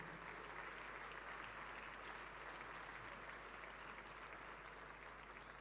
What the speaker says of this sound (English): Please let the applause continue as they take their seats.